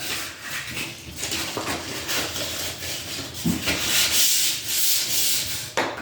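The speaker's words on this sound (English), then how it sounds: "taking some 320 grit sandpaper and sanding it" 320 grit sandpaper rubs back and forth across a wooden drawer front in rhythmic, raspy strokes, close and fairly loud, with no voices.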